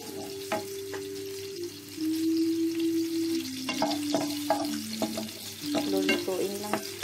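Chopped garlic frying in plenty of oil for sautéed bagoong with tomato, a steady sizzle with occasional stirring clinks and scrapes of a utensil in the pan, no voices.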